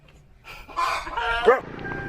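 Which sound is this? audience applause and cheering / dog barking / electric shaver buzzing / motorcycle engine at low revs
dog barking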